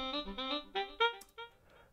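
A saxophone line played back from Ableton Live sounds as a short melodic phrase of several distinct, reedy notes in quick succession, fairly close and clear, ending in a softer tail, with no talking.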